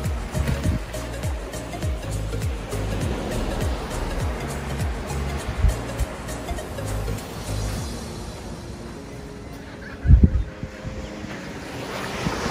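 Ocean waves wash steadily onto the beach at Pantano do Sul, Florianópolis, with continuous surf roar, gusts of wind on the microphone and a louder wave burst near the end; no one speaks.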